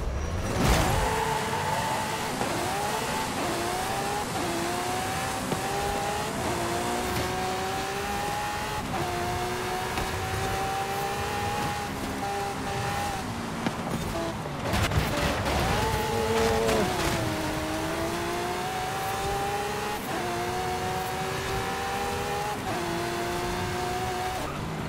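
Lamborghini Aventador with Liberty Walk bodywork racing at night in Forza Horizon, a loud high-revving engine climbing and dropping through gear changes with tire squeal and skidding, sustained and close, with no talking.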